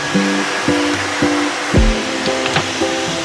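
A hair dryer blows with a constant whoosh while a voice hums a short repeating melody over it.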